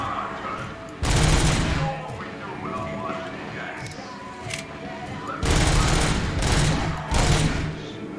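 Automatic pistol fire in a video game rings out in two long loud bursts amid a dense, noisy battle mix with constant background clatter.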